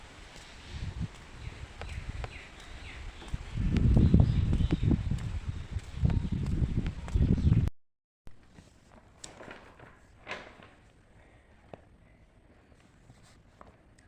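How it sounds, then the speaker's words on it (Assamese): Strong wind gusts through a garden, buffeting the microphone with a heavy, roaring low rumble for about eight seconds before it cuts to a much quieter stretch of light rustling and scattered ticks. "বতৰটো বহুত বেয়া, একেবাৰে বতাহ বলিছে একদম।"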